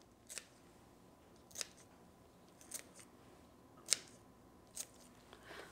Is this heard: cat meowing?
no